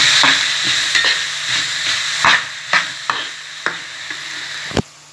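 Carrots and beef fry in a pan for meat pie filling, a steady sizzle broken by about a dozen sharp scraping stirs at an irregular, unhurried pace, close and clear.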